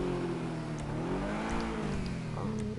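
A car engine revs and drones steadily in a PS4 video game, a close mid-pitched whir that rises and falls slightly over a constant rumble.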